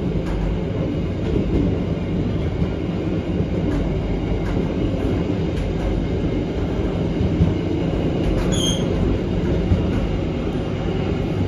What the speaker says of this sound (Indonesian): Berarti kereta BBM-nya bisa langsung berangkat